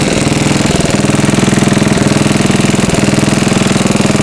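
A 74-year-old Briggs and Stratton engine roars steadily at wide open throttle on a dyno, loud and close with a fast, even firing pulse and no talk over it.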